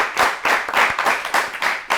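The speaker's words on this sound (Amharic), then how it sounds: "ለናርዶስ አጨብጭቡላት በደንብ አድርጋችሁ" A studio audience on a children's quiz show claps for a young contestant, a dense burst of applause with quick uneven rhythm, fairly close and alone.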